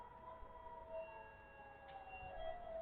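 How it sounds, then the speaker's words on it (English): An air raid siren wails faintly in the distance over Tel Aviv, a thin, steady tone with no voices nearby. "we are hearing an air raid siren again sounding"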